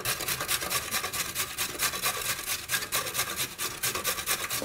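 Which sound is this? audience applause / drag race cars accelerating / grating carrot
grating carrot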